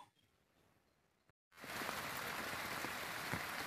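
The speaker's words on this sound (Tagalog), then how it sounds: "inabot na tayo ng malakas na ulan" Heavy rain pours down in a dense, loud, steady hiss after a brief quiet stretch with faint patter.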